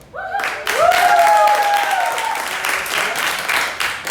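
Applause rises from an improv show audience in a theatre, a sharp burst of clapping that swells and holds steady, with voices calling out and whooping over it.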